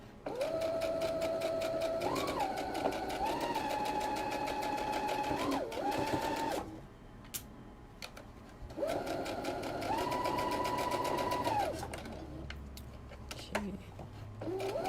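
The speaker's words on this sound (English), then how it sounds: "then just sew around the circle some" A sewing machine stitches fabric for a kids' donut pillow, running in two long steady bursts of rapid whirring with a brief pause between and a quieter stretch at the end.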